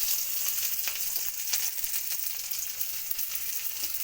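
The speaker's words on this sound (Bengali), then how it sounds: "পেঁয়াজটাকে একটু লাল লাল করে ভেজে নেব" Chopped onions fry in mustard oil in a kadai, a soft, steady sizzle with faint crackles and pops throughout, quiet and close with no talking.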